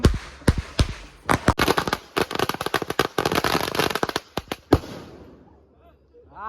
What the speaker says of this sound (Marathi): फटाके एकदम हवेत बिवेत